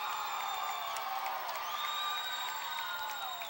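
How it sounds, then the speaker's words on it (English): Crowd noise from spectators at a 2005 high school basketball game between Harvey and Geneva, a steady, fairly distant roar of cheering with some whistle-like tones running continuously throughout. "as you hear the cheers from the crowd"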